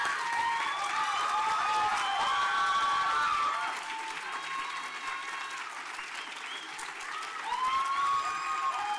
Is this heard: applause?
yes